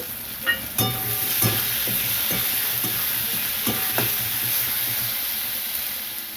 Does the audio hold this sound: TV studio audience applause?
no